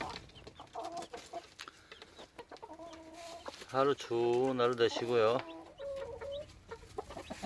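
Chicks cheep and peep in a busy cluster, with a louder burst of squabbling calls midway, under someone talking.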